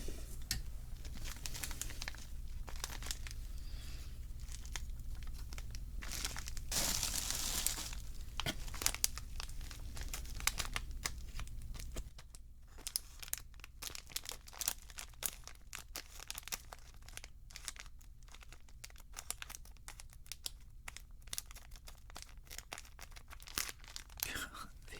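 Packaging for a Tetris game gift being torn open and crinkled, with dense crackling and ripping bursts loudest in the first half, then scattered sharper crinkles and rustles close up in a quiet setting.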